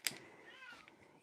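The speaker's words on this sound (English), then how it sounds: "If you hear cat murder in the background, it's not a cat dying. She's just in heat." A female cat in heat yowls faintly in the background, a drawn-out wavering cry after a brief sharp noise, heard at low level.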